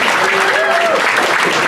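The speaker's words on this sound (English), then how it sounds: "how many of you are high school graduates by applause?" Loud crowd applause aboard a cruise ship gathering, sustained and dense throughout, with a brief whistle or whoop rising above the clapping.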